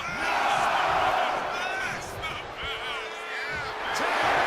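A wrestling arena crowd roars and cheers steadily around Jacob Fatu during a live WWE Raw match, a dense sustained wall of voices with rising whoops under commentary.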